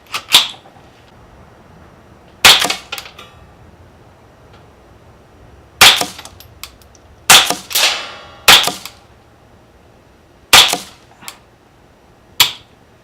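Remington Subsonic .22 rounds fired from a rifle at a target: seven sharp, close cracks spaced irregularly a second or two apart, each with a short decaying tail, quiet between shots.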